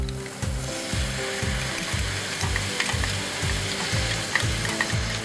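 Loud, steady sizzling of mushrooms stir-frying in a hot pan, with a regular rhythmic scrape of a utensil tossing the food, no voices.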